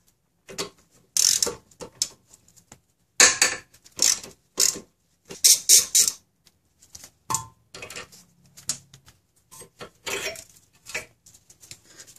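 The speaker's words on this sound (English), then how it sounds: "I'm first going to remove the brake hose bracket." Ratchet wrench clicking in short irregular bursts of rapid pawl ticks, close and fairly loud, while removing a rear brake hose bracket on a Honda Accord.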